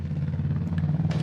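A demolition derby car engine runs hot at a Halloween-themed derby event, a steady low rumbling idle with faint clatter on top, heard fairly close and alone.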